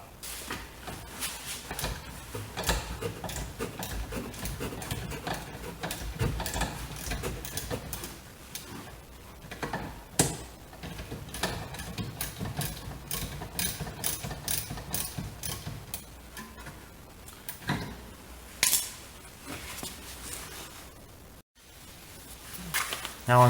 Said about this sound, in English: loosen that way, and you can get your caliper bolt out